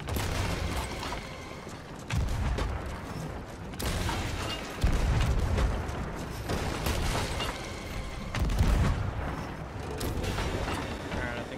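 Ship cannons fire repeatedly during a battle against a skeleton army in Sea of Thieves, a series of heavy booms every second or two under a constant creaking, mechanical background, with faint talk.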